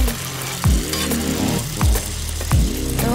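Unformed ground beef burgers seasoned with salt and pepper sizzle on a hot Blackstone griddle while camping, a loud, close crackle with repeated sharp scraping strokes of a spatula every second or so.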